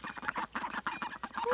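Several ducks and a goose quack and honk in rapid overlapping bursts while wrestling on a snowy morning, loud and close with a constant busy rhythm.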